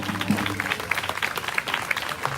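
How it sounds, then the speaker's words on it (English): Steady applause from a crowd at a peaceful protest over Attica, dense clapping sustained throughout at moderate loudness with a few louder claps standing out. "one more round of applause"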